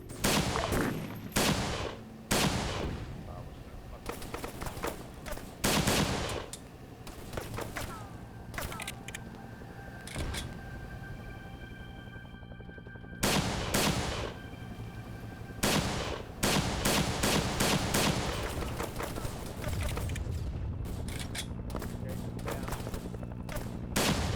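Gunfire during a night patrol in the Vietnam War game Nam SOG, repeated bursts of automatic fire and single shots in irregular clusters, loud and close, with quieter stretches between volleys.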